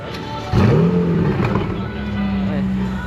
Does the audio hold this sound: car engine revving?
yes